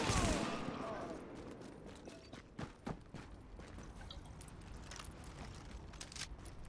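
Gunfire in The Division: a loud opening shot with a decaying tail, then several quieter, sharp shots scattered over a low background, no talk.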